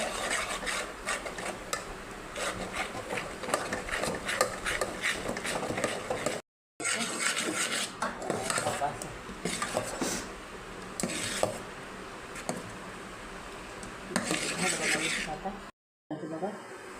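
Batter or dough stirred and scraped in a bowl for idli and coconut chutney, with repeated rubbing and clinking of a utensil against the sides, fairly close, broken by two brief pauses.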